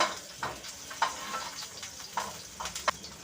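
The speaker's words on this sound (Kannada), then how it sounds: "ಈರುಳ್ಳಿನ ಹೆಚ್ಚಿಬಿಟ್ಟು ಹಾಕ್ಕೊಳ್ತಾ ಇದ್ದೀನಿ ನೋಡಿ ಇದನ್ನು ಸ್ವಲ್ಪ ಫ್ರೈ ಮಾಡ್ಕೋಬೇಕು" Chopped onion frying in oil in a pan, a soft steady sizzle with scattered crackles and pops, close and fairly quiet, no talking.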